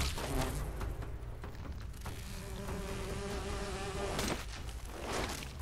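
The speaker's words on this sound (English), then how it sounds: "You gotta watch these bees." Buzzing bee swarm in the Fallout 76 video game, a steady insect drone that holds throughout at close range, with busier bursts of game combat noise rising near the start and end.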